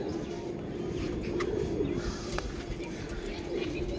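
Low, murmuring pigeon coos roll on continuously across the clip, close and steady, with faint background noise and no talking.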